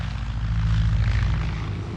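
A 1932 propeller airplane drones overhead in a steady, loud, low engine roar with no talking, heard on archival film.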